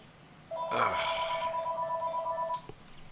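A phone rings with an electronic, warbling ringtone. It is one continuous ring of about two seconds, close and fairly loud, and then it cuts off abruptly.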